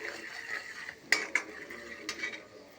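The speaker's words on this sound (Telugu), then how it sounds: "ఇలా కారం వేసి శుభ్రం కలపాలి." A spoon stirs chili powder into lemon pickle in a pan, making a soft, steady scraping with a few sharp clinks against the metal, close and fairly quiet.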